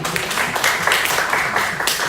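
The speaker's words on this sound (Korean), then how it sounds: "우리를 구원하신 하나님께 한번 영광의 박수 한번 올려드릴까요?" A middle-school youth congregation at a Sunday church service claps together in praise, a steady burst of many hands close by that fills the short span with no voices over it.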